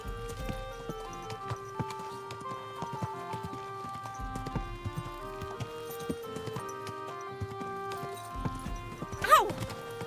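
Horse hooves clip-clopping at a steady walk in the video game Kingdom Come Deliverance II, with music underneath and a short, sharp whinny near the end.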